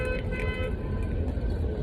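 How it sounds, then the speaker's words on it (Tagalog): Busy street traffic during National Day in Abu Dhabi, a steady wash of engines and road noise with short car horn toots poking through, moderately distant. "See the traffic."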